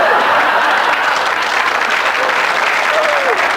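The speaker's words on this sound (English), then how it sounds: "would you please give a big cheer to our loving couple, Darren and Sharon" A studio audience bursts into loud, sustained applause and cheering for a loving couple, Darren and Sharon, on a dating game show, dense clapping filling the whole stretch, with a voice faintly audible beneath.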